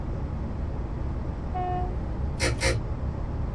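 A train departure buzzer sounds in Train Simulator, a faint tone followed by two short, bright buzzes over a steady low rumble from the train.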